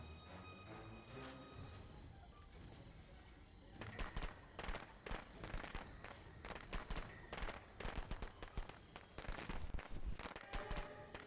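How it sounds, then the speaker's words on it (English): Rapid bursts of firecrackers in Friday the 13th: The Game crackle and pop in irregular clusters, sharp loud bangs following a quieter stretch of background noise. "Well, thank God I got firecrackers."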